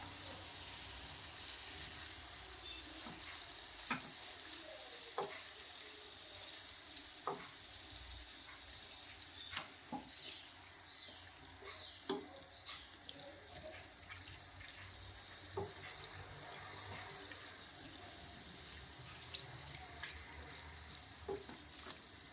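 Squid roast frying in a pan on low flame, a steady close sizzle broken by scattered scrapes and knocks as the pieces are stirred, with no talking.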